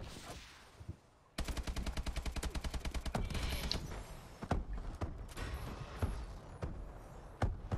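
Rapid automatic AK-12 rifle fire in the futuristic shooter Call of Duty: Advanced Warfare, a dense burst of evenly spaced close shots followed by scattered louder single reports and impacts amid battle noise.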